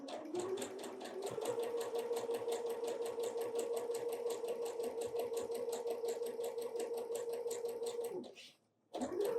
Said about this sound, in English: I'm going to sew the buttons to the hat part.